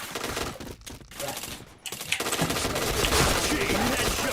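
A shooter video game fires a rapid automatic burst, dense and loud, after a few separate sharp shots. It is noisy and close, with some faint voice sounds mixed in.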